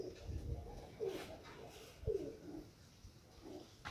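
Pigeons coo softly in a loft, two or three low throaty coos at a moderate distance, with faint background noise.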